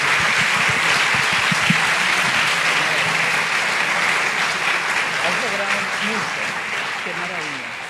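Audience applause at a book launch, a steady wash of clapping from a crowd that runs the whole time, loud and fairly even, with faint voices underneath toward the end.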